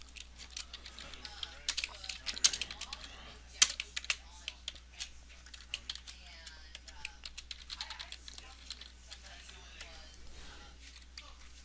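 Entering card details on a computer keyboard produces quiet, uneven clusters of key clicks with short pauses between bursts, faint and close, under a low steady background hum.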